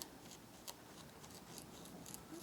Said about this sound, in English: I'm just going to just trim the fur away, just so we can really see